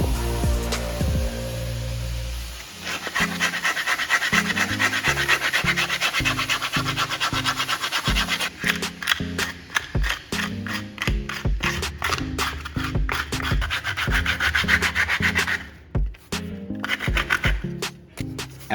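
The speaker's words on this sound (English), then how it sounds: "First, I use sandpaper to roughen the surfaces that need to be bonded." Sandpaper roughening shoe sole surfaces before bonding: rhythmic, close scratching and rubbing strokes in a fairly fast repeated pattern, loud and without talk.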